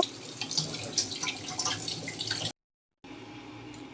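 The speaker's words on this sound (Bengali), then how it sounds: "পরিষ্কার করে ধুয়ে নিচ্ছি জলটা ঝরিয়ে নেব" Gourd leaves are rinsed under running water in a kitchen, a soft steady splashing and trickle that cuts out briefly and then resumes.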